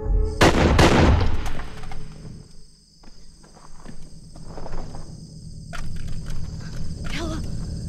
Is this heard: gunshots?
yes